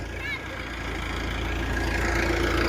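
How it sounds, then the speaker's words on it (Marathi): A farm tractor's engine idles and chugs steadily while the driver tries to reverse near a well, a low continuous rumble that grows slightly louder, with a brief voice early on. "तिथं ट्रॅक्टरने काय रिवर्स न जात आहे"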